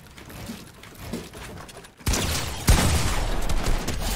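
Gunshots during a Fortnite box fight, quiet game ambience suddenly broken by a burst of loud close shots and a sharp heavy blast, followed by continued dense firing and impact noise.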